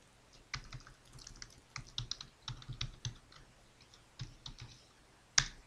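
Someone types on a computer keyboard in quick, uneven bursts of crisp clicks with short pauses between, close and fairly quiet, ending on one sharper keystroke.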